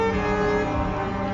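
Trucks at the 24 Hours of Le Mans truck race make a steady, dense engine rumble with a faint horn-like tone. It fills the whole short stretch evenly in the background, with no talk over it.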